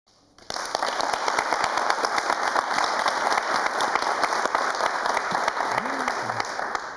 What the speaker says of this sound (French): C'est normal qu'ils applaudissent ces jeunes